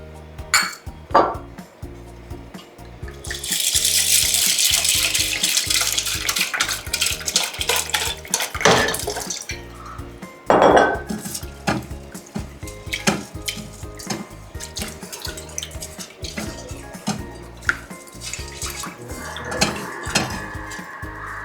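One bowl of toor dal is rinsed in water, with metal clinks, scraping and splashy swirling heard up close, and a louder rush of water partway through. The clatter of a steel bowl and a spoon keeps breaking in.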